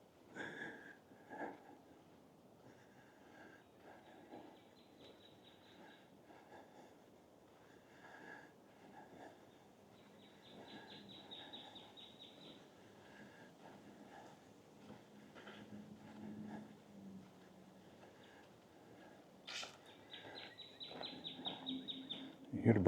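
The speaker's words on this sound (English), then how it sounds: "You hear the birds chirping." Faint, scattered bird chirps and short calls drift in from a distance in Sesquicentennial State Park, Columbia, South Carolina, over a quiet outdoor background with some soft low rustling.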